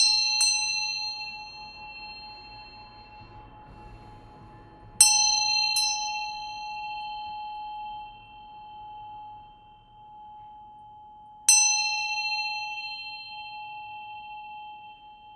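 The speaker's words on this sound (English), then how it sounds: "I'm going to ring this bell here to welcome in spirit and give them something nice to land with" A hand bell rung to welcome spirit strikes clearly four times, two close together near the middle, each bright ring hanging and slowly fading into a quiet room with no talking.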